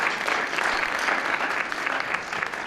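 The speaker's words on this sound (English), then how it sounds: "Students, can we give all of our family members a round of applause?" An audience at a high school instrumental concert claps for students' family members, dense continuous applause filling the whole moment.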